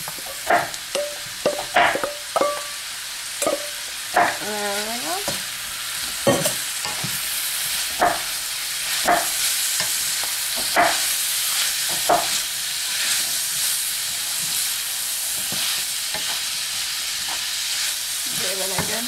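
Zucchini noodles sizzle steadily in a hot pan while a utensil stirs and scrapes them in repeated clattering bursts, with no talking.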